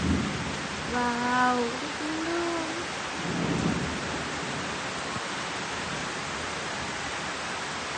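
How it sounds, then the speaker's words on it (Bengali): Heavy rain and wind from a thunderstorm in Dhaka make a steady, dense roar throughout, with a voice exclaiming briefly near the start. "দেখো আমি এখানে পুরো ঝড় বৃষ্টি হচ্ছে"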